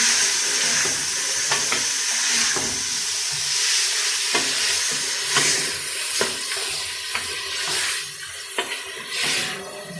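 Garlic paste and crushed ginger paste sizzle steadily in a hot pan for chicken salan, a continuous bright hiss broken by occasional scraping thuds of stirring, close and fairly loud with no talking.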